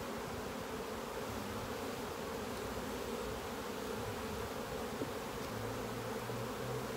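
Saskatraz honeybees at an apiary hive give a steady, dense buzz, moderately quiet and continuous, with a faint low hum and no voices.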